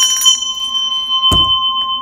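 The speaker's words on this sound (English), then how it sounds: "So now they've rung the bell" A bell rings once, a single bright close strike with a ringing tone that hangs briefly in a quiet room.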